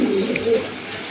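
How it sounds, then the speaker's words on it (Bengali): Large pigeons in a breeder's collection coo in low, throaty, rolling calls close at hand, two or three swells fading toward the end, with no speech heard. "আরেক জোড়া কবুতর"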